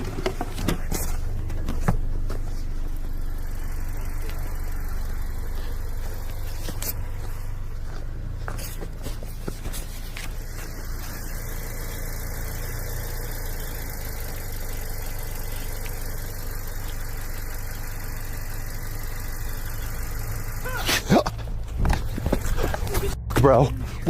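A car's engine idles with a low, steady rumble near a camping spot, then moves off, the mid-range drone continuing under frequent nearby talking, with a few scuffs and knocks.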